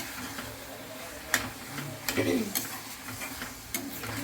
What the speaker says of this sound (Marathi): आपले मसाले छान भाजतायत आता